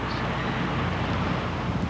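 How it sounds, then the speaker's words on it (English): Wind blowing across the summit of Mt Sugarloaf, a steady, unbroken rush of broadband noise buffeting the microphone for the whole stretch, with no voices. "It's getting a little windy."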